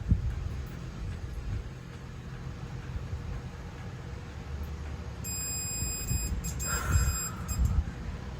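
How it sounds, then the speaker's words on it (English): A Honda CB350's right-hand engine cut-off switch is tested and an electronic beep sounds near the end: thin, steady tones start around midway and overlap a brief louder blip, all over a low background rumble. "We should hear a beep."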